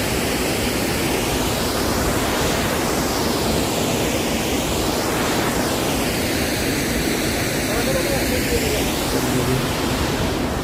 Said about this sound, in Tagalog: Ayan, yan ang falls. Salmon Falls.